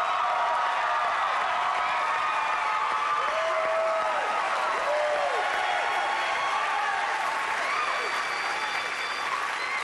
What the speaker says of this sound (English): You got a whole bunch of super fans that came down to cheer you on today